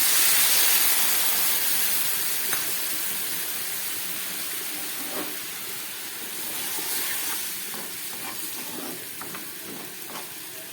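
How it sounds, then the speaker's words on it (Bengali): Fried stalks bubble and simmer in a watery mustard-poppy paste, a steady soft hiss with occasional small pops, close by and alone with no talking. "ডাটাটা ফুটে উঠেছে, 2-3 মিনিট হয়ে গেছে।"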